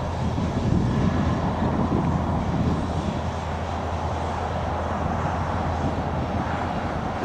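CN freight train with a DPU locomotive passing on a hillside, a steady loud rumble of rolling cars and engine drone, continuous and close.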